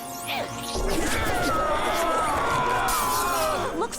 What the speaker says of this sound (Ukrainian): Схоже, скло не витримує потужності хвиль.